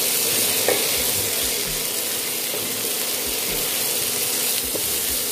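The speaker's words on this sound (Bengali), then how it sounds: "সব শুদ্ধ একসাথে ভালো করে কষিয়ে নেব" Onions with jute leaves sauté in a pan, a continuous loud sizzle with scraping, clicking stirring strokes throughout and no voices.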